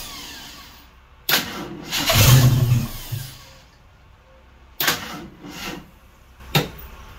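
A 1976 AMC Gremlin with empty carburetor bowls and a weak battery cranks over in two or three loud, brief bursts separated by quiet pauses, heard close up with no talking.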